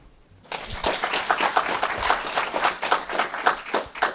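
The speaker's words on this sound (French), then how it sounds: "je vous demande d'accueillir à présent Romain Chauvet, sous vos applaudissements" Conference audience applauds to welcome a speaker onto the stage, clapping starting abruptly after a brief quiet moment and continuing as a lively, rhythmic patter.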